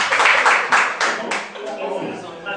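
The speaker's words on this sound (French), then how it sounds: "Je disais deuxièmes applaudissements." Audience at a graduation ceremony clapping in a quick burst of rhythmic applause that tapers off after a second or so, close and fairly loud, followed by talking.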